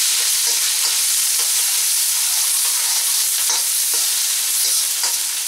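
Chopped onion and serrano chile strips sizzle loudly in a pan for Mexican-style beef tacos, a dense, steady hiss close up with occasional stirring scrapes.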